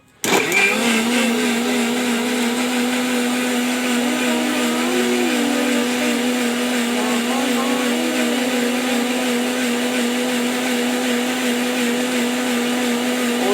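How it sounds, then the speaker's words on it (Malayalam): An electric blender grinds watermelon into juice, starting abruptly and then running as a loud, steady, close motor whine throughout. "ചെറിയ കഷ്ണം പോലും ഇല്ലാതെ ഞാൻ അതിനെ അരച്ചെടുക്കുക"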